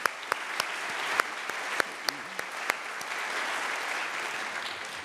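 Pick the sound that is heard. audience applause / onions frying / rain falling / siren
audience applause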